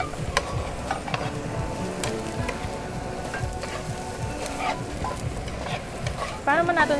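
Food sautés in a pan with a continuous sizzle and frequent scraping and clattering from stirring, growing louder and busier near the end.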